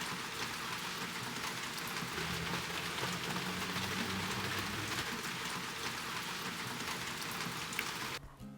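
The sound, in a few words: heavy rain pouring down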